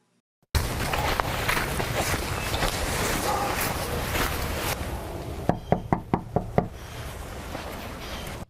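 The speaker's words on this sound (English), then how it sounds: "I gave him a knock at his door both before and after the hearing." Six sharp knocks on the front door of a house in a cold, quiet Brookland, Arkansas neighborhood, struck in a quick, evenly spaced run late in the clip after several seconds of steady outdoor wind rumble.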